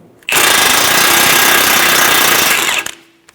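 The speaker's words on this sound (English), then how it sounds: "Using an 18mm socket, remove the nut for the outer tie rod." Impact wrench spinning an 18mm socket to remove the outer tie rod nut on a 2012-2020 Chevrolet Sonic, one loud continuous whirring burst of about two and a half seconds, close up and alone.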